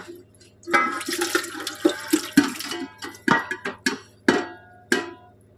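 Liquid is poured into a large biryani pot during chicken biryani cooking, with gurgling splashes and sloshing bursts close by that come in uneven surges and then taper off.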